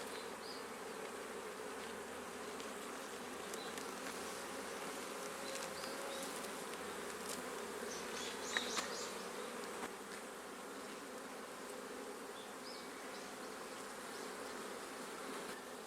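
Honeybees swarm around an opened beehive on abandoned land in Ōmishima, Japan, making a dense, steady buzz that stays unbroken for the whole stretch. Nobody speaks.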